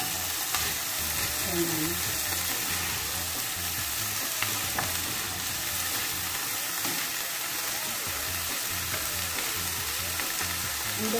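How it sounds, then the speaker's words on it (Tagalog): Vegetables sizzle and fry in a hot pan while being stirred for an Arabic home-cooked dish, a constant loud crackle with occasional scraping, and a voice briefly speaks over it. "ilalagay natin yung gulay. So, hahaluin natin siya"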